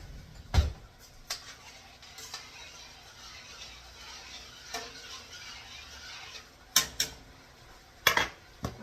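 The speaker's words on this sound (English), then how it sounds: "going to go ahead and give this a good stir" Sweet and sour chicken stir fry being stirred in a pan: a few sharp metallic clinks and scrapes of a utensil against the pan, spaced irregularly over a soft, low background, with no talking.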